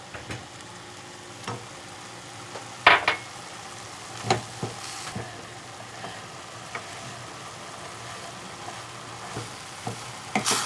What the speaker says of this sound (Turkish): karıştırarak kavurmaya devam ediyorum